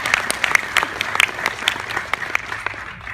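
Audience applause at Brian May's Queen in 3D book launch at Disney Studios, a modest crowd clapping steadily and fairly close, thinning toward the end.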